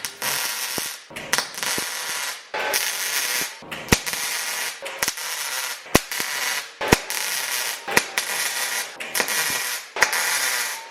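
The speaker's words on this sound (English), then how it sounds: "So let's attempt to weld this now." A steel adapter for a PSC steering box is welded on a K30 truck trail build, with loud crackling bursts of hissing arc broken by short pauses and sharp pops, close up and without speech.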